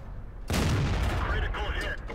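A World of Tanks howitzer, the Somua SAu 40, fires one heavy shot: a sudden loud boom after a quiet moment, followed by a rumbling, crackling decay that lasts about a second and a half.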